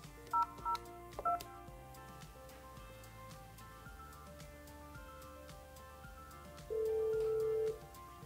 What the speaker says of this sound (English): Dial the person you want to transfer the call to and pause until the phone auto-dials.